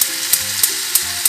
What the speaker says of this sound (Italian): mentre i porcini cuociono qualche minuto